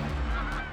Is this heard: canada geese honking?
yes